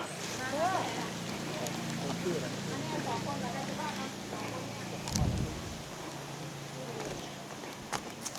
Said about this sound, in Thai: อุ้ยฝนก็ตกครับพี่น้อง